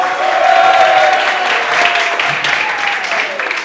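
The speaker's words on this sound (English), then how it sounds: "Clap." An audience claps steadily at a church gathering, the dense applause filling the whole stretch at close range, with a held tone and a voice running faintly beneath it.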